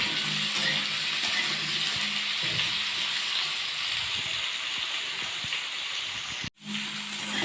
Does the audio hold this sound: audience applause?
no